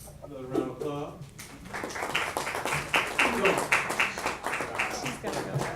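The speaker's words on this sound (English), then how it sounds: "Another round of applause." Audience at a literary reading applauds, brisk dense clapping building after a voice speaks briefly at the start and continuing steadily to the end.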